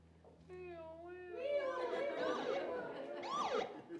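Several voices, children among them, imitate wailing sirens, their pitches rising and falling as they overlap, in a quiet room.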